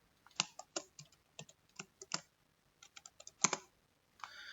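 A password typed on a computer keyboard: about a dozen crisp, close key clicks in irregular bursts, followed by a final soft press, in an otherwise quiet room.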